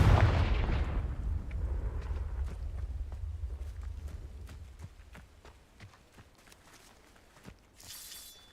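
A Confringo blasting spell in Hogwarts Legacy detonates with a loud, deep blast at the outset. The rumble slowly fades under a scatter of sharp clicks and small impacts, ending in a brief hiss.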